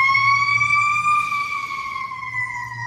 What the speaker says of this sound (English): we have another siren